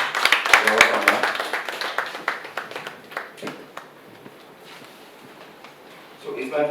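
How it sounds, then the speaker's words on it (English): An audience applauds a professor at an academic research network workshop in Ibadan, with scattered claps that are strongest at first and then thin out under a speaking voice before fading to room noise. "Please a round of applause for her."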